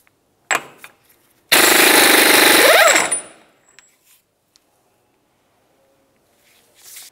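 Impact wrench spinning off a 36mm front axle nut on a 2000-2006 Chevy Tahoe: a loud, steady mechanical burst of about one and a half seconds, preceded by a short rattle and followed by faint clinks.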